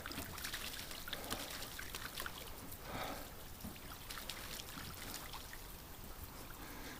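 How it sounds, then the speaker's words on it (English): Two ducks bathe in a dish of warm water, giving a faint, continuous trickling and splashing close by, with no voices. "these 2 ducks are still bathing themselves"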